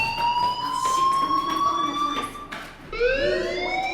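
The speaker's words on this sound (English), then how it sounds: "Hey, do you hear that fire alarm?" A loud, wavering electronic fire alarm tone sounds continuously, rising and falling in pitch like a siren, with a brief dip before resuming, from the video game Life is Strange.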